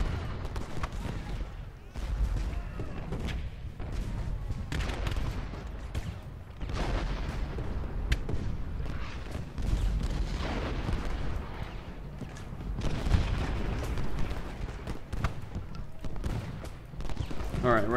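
Civil War artillery fire in Ultimate General: Gettysburg, a battle at Cemetery Hill, rumbling on as a dense, continuous barrage of distant cannon booms and musketry under a low battlefield din.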